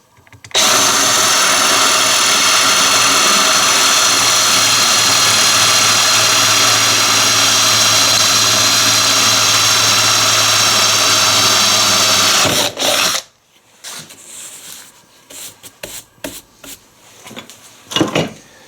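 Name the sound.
power drill with masonry bit drilling through slate tile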